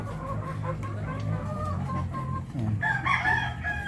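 Hens cluck nearby and a rooster crows loudly toward the end, with a brief spoken word at the start, on a small farm.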